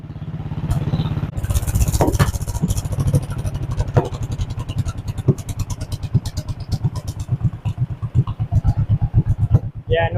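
An old John Deere 420W tractor engine runs with no muffler, giving a close, sharp, popping exhaust beat that slows and turns uneven toward the end.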